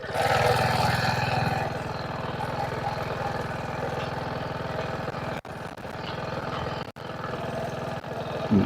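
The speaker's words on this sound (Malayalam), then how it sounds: "ആക്സിലേറ്റർ ചെറുങ്ങനെ കൊടുത്തിട്ട് തന്നെ പോയിക്കോട്ടെ" A scooter engine running on light throttle during riding practice, a continuous near drone with slight rises and falls and two short dips, with no talk over it.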